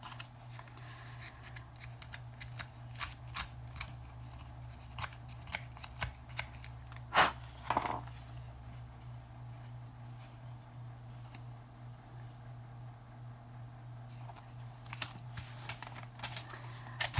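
A Tim Holtz paper distressing tool scraping along the edge of paper or an index card, a run of quiet dry rasping strokes with a couple of louder scrapes midway over a low steady hum.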